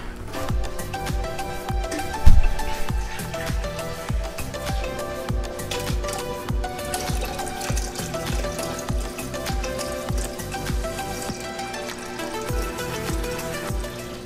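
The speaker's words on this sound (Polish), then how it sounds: "resztę wleję do głównego zbiornika i włączę filtr" Water is poured into the main tank of a 10-gallon reef aquarium filled with rock and sand, a continuous splashing, trickling stream with scattered bubbly bursts that stays steady and close throughout.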